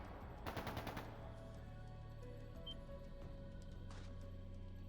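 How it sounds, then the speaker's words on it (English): Gunfire in the video game Trails of Cold Steel II: one short rapid burst of automatic shots, then a steady hum of background music and low tones. "That sounded like gunfire."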